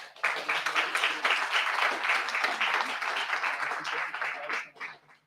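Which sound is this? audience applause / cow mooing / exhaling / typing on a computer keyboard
audience applause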